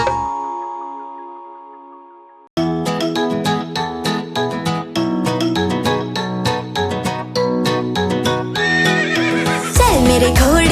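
A horse whinnies and hooves clip-clop in a bright, bouncy children's rhyme, the brisk trotting beat running under cheerful music with bell-like tones and a rising neigh near the end.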